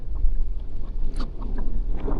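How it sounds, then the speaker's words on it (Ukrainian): Motorboats on the Southern Bug river drone in the distance under gusty wind buffeting the microphone, a low steady rumble throughout. "Тут вже розганялися мотоциклісти, катірісти. До того ще й вітер."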